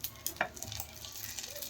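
Dosa frying in a pan, a soft continuous sizzle with a couple of sharp clinks from a utensil near the start, close by and fairly quiet.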